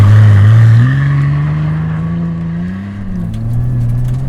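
A rally-prepped Datsun 240Z with rear-wheel drive is driven off-road on dirt. Its engine drones loudly up close, the pitch rising and falling as it revs and shifts.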